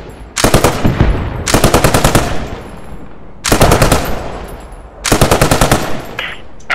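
Four long bursts of rapid automatic gunfire from a strafing run in the World War II shooter Post Scriptum, each lasting about a second, loud and close, with a rumbling battlefield bed between the bursts.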